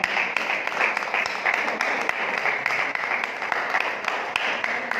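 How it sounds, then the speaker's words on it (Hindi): An audience at a yoga day celebration gives steady, dense applause that carries on evenly throughout, moderately loud in the hall. "आपकी जोरदार तालियां।"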